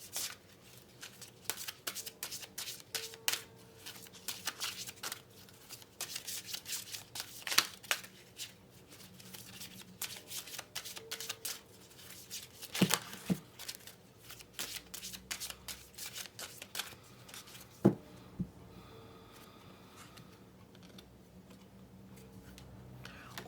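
A deck of oracle cards is shuffled by hand during a tarot reading: long stretches of soft, irregular papery flicking and slapping, with occasional sharper snaps, close and fairly quiet, with no speech.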